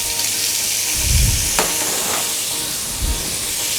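Mushrooms and onion frying in a hot pan, a steady sizzling hiss throughout with a few louder stirring bumps and scrapes near the start and end.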